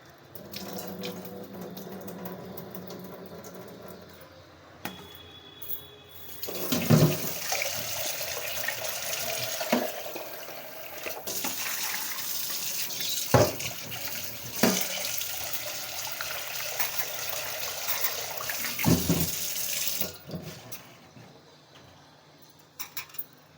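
Raw prawns being washed by hand under a running kitchen tap, steady splashing water with louder bursts as the prawns are rinsed and stirred, continuing for over twenty seconds without talk.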